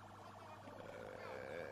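An ambulance siren passes during a public gathering, its wailing tone rising and falling in a fast, regular cycle. It sounds faint and distant over a low background hum.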